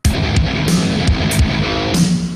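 A heavy metal groove shifts only the kick drums onto the upbeats while the snare and hi-hat keep their places, beneath thick distorted guitar. Loud, syncopated low thumps and bright cymbal hits fill the mix, with no voices.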